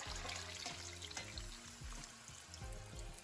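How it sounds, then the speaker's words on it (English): Water poured into a cooking pot of food, a steady splashing trickle running continuously throughout, close and moderately quiet. "Now I'm going to add me some water"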